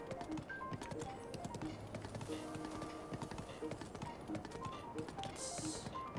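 Horse hooves clip-clop over rocky ground in Breath of the Wild as the horse scrambles along a cliff side, quick uneven taps under game ambience and a faint voice.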